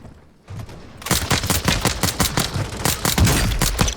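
Sustained gunfire in the video game Warzone 2.0 starts after a quiet second: dense, loud bursts of repeated shots crackle close by, with no talking.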